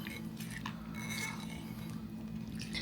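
Garlic powder, Creole seasoning and black pepper being stirred together in a bowl, soft clinking of a utensil against the dish, quiet and close, with a faint background hum.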